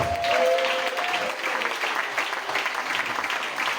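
A church congregation applauds together, a dense sustained wash of clapping that starts loud and holds steady throughout, with a faint voice briefly audible near the start.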